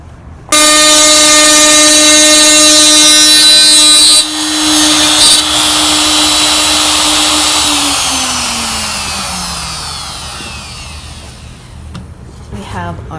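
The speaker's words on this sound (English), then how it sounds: "we're just gonna route this mortise and then shape it up and clean it up in a bit" A wood router cutting a through mortise for a steam-bent wooden iPad stand: a loud, steady high-pitched motor whine holds for several seconds, then drops in pitch and fades as the bit winds down.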